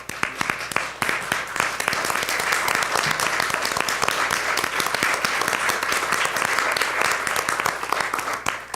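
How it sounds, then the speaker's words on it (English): Audience applause for students' families at a Peoria Unified governing board meeting: sustained, dense clapping from a room full of people, steady and fairly loud throughout, with no talking over it. "can you give your family a round of applause for all the support they gave you through this process?"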